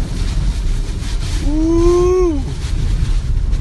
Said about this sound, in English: We got a strong wind here.